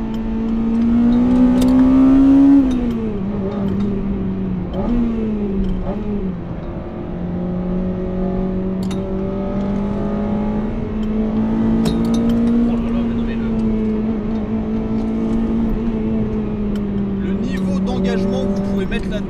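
A Honda Integra Type R DC5 Mugen engine drones and revs steadily while driving, its tone rising and dipping with throttle changes, heard from inside the car with someone talking over it.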